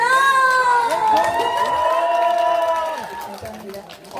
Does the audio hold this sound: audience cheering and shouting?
yes